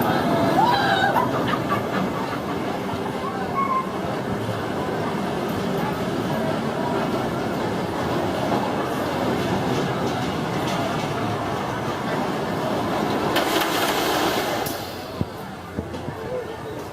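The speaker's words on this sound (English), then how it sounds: "Swamp Thing, the family inverted coaster." Swamp Thing, a family inverted roller coaster at Wild Adventures Theme Park in Valdosta, Georgia, rumbles steadily along its track with constant rattling and roaring for the whole stretch, wind noise rising near the end.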